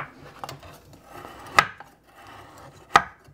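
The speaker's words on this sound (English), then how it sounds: "I can actually cut this without defrosting it." A knife cuts into a frozen block of packaged lamb with quiet scraping and two sharp, hard chops, the second about a second and a half after the first, in a kitchen with no talking.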